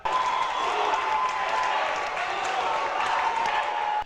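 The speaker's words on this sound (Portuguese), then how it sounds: "A maioria das cerca de 300 pessoas presentes aplaudiu a mãe do juiz Sérgio Moro" A crowd of about 300 people applauds steadily at an honoring ceremony, dense clapping that starts abruptly, holds at an even level, and cuts off at the end.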